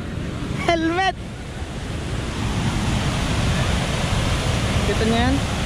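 Strong rushing water at Lintungan waterfall, a loud steady roar of broadband noise that fills the whole stretch, with brief talk near the start and faint voices later.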